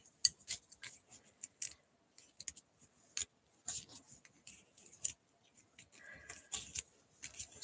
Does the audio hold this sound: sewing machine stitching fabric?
no